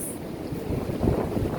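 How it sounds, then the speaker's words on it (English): Strong gust of wind during a windstorm in Ronkonkoma, New York, a steady low roaring rush with buffeting microphone noise that builds toward the end. "that's a big gust"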